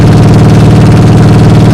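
A Bugatti supercar's 8.0-litre W16 engine drones at a very loud, steady, deep idle-like throb close by, filling the short moment without any voices.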